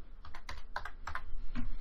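Quick, light keystrokes on a computer keyboard as a file name is typed, a short irregular burst of clicks heard close and fairly quiet, without any voices.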